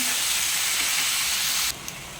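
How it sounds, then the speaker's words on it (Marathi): Capsicum sautéing in a hot pan for pav bhaji, a steady close sizzle with bright hissing that drops sharply in level near the end, without any talk. "त्यामध्ये मी आता कॅप्सिकम ॲड केलेलं आहे, शिमला मिरची टाकलेली आहे. आता त्याला परतून घ्यायचं आपण."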